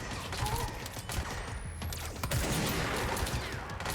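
Gunfire from the action video game Control on PS5 while shooting at enemies, with bursts of shots and game effects running steadily through the whole stretch, moderately loud, with no talk over it.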